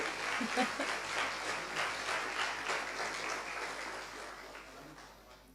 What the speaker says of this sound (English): Please give a round of applause for him as well.